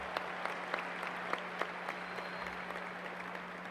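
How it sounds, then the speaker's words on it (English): A graduation audience at Hutto High School gives a sustained round of applause, steady dense clapping from a large crowd in a hall, with a constant electrical hum underneath. "Let's give a round of applause."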